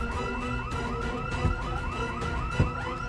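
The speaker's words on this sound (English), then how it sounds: "No, the alarm went off." A car alarm goes off in the zombie survival game Project Zomboid, a loud, steady warbling siren that repeats in fast rising and falling cycles without a break.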